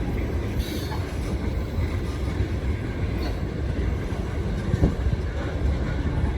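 A heavy rock-loaded freight train climbs a grade behind a road unit, a geep and a switcher locomotive, making a loud, steady rumble with rolling wheel noise and faint squeals throughout.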